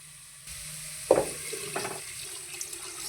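Water is poured into a pot of tender Malabar spinach (basale) to cover it, a short splashing gush in a quiet kitchen with a faint steady hum beneath.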